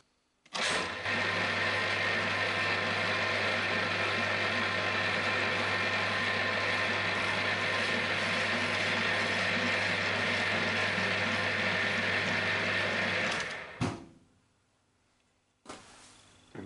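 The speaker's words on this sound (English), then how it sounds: "This is an M3 tap, it's a machine tap, and we're running at 170 RPM, nice and slow." A machine tap cuts M3 threads at a slow 170 RPM, producing a steady, loud mechanical whir and hum that runs unbroken for about thirteen seconds and then stops abruptly, with a brief restart near the end.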